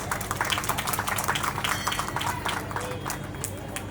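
Loud applause from a crowd at a Maharshi Valmiki Janmotsav community gathering, with dense clapping and babble filling the whole stretch, steady and close, with voices mixed into the noise.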